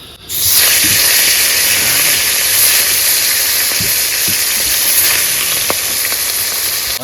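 Fish fries in a pan, the head going in last, with a loud, continuous hissing sizzle that holds steady from start to finish, with no voices.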